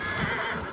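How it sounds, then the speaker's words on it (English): A horse in the video game Ghost of Tsushima whinnies sharply in a short, bright neigh, close and loud, with a soft hoof clop near the end. "Good horse, Kage."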